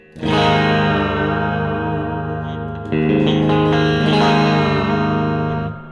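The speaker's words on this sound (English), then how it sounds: "I could turn up the reverb just like the real amp." An electric guitar rings out through an amplifier, sustained chords washed in heavy reverb and echo, loud and close, with a new strum midway.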